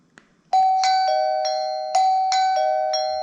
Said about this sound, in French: Appuyez sur le bouton de la sonnette.